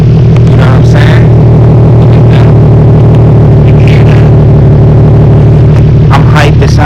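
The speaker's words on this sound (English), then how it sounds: "I can do a quick rev for y'all real quick just so that y'all can hear it." Car engine idling and revving through a newly installed ISR single exit exhaust, a loud deep rumbling drone that holds steady, very close and dominant, with brief higher bursts over it.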